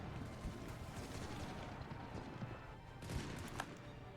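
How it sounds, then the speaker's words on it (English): Cannons firing in a strategy video game come through as a dense, distant rumble of overlapping booms and crackles, with a couple of slightly louder thumps near the end. "what's important are the cannons keep firing"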